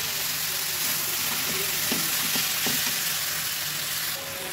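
Bottle gourd greens frying in a pan make a strong, continuous close sizzle, with a handful of sharp stirring clicks and scrapes through the middle and no voices.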